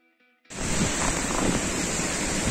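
Cold sea water laps at the shore of an English beach as someone walks barefoot through it, with a sudden steady wash of surf and splashing that starts after a short quiet moment and stays loud.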